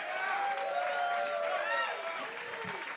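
Live-music crowd at a Campus JAX show applauding the band: continuous moderate clapping and cheering with some chatter mixed in, steady and fairly distant.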